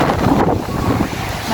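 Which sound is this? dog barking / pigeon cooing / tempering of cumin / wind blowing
wind blowing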